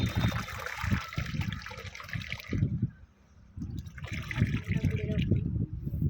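Water trickling and splashing as a girl plays in water at a new house, near and gurgly in bursts, with a short lull midway; voices talk over it throughout.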